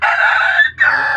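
A chicken calls loudly and close by on a farm, two sustained, strained cries split by a brief pause, around a mother hen tied up near her chicks.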